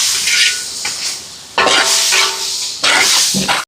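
Vegetables with potatoes, green peas and tomato being stirred in a cooking pot, giving three loud sizzling, scraping bursts separated by quieter hissing gaps, close and with no talking.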